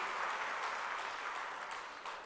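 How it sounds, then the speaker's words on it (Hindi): Convention audience applauding, a sustained wash of many hands clapping at moderate, fairly even loudness with no voices over it, dipping slightly near the end. "थोड़ी बहुत ताली तो बजा ही सकते हो आप लोग अपने आप के लिए भी"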